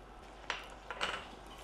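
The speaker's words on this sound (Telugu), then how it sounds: "గిన్నెలన్నీ కడిగేద్దాం, ఆగండి." Cooking pots being washed in a kitchen, a few clinks and knocks of metal vessels over a quiet background.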